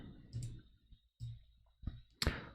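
A few sharp mouse clicks, spaced apart, ring out close and fairly quiet while frames are connected in Figma, with no talking.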